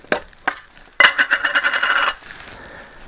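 Small screws picked up and handled while reassembling the head of a WeCreat Vista laser, a few light metallic clicks followed by a brief rattling scrape, close and quiet.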